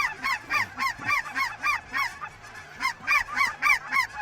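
A flock of lesser geese honks repeatedly over a pea field in quick overlapping calls, fairly close and clear, with short pauses between bursts.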